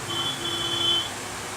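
A Realme 3 smartphone in black and blue gives a single high, thin electronic beep lasting about a second at boot-up, close and clear over faint room hiss.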